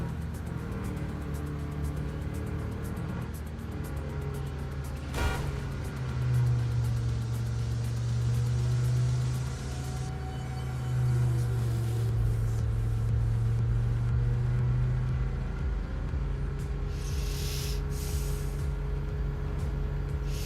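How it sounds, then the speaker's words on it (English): A game car revving and sliding through a drift, its engine droning steadily with a rising, wavering whine in the middle, loud and close with no voices over it. "I'm training on my drifting abilities."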